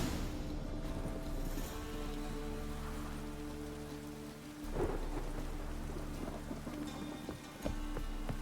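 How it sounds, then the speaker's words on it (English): Steady rain with low rolling thunder in The Witcher 3, a continuous soft downpour and a deep rumble swelling near the middle, heard alone without voices. "Rain again."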